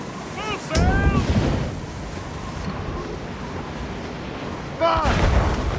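Enemy ship cannons booming in an Assassin's Creed Rogue naval battle, two heavy blasts several seconds apart over steady wind and sea surf, with shouted voices between them.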